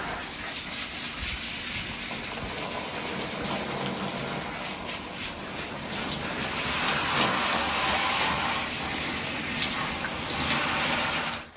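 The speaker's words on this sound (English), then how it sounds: "be very careful not to squirt water in your dog's ear" Water spraying onto a 70 lb standard poodle during a bath, a steady hissing gush from a hose or handheld sprayer running continuously, close and constant, swelling slightly louder near the end before cutting off.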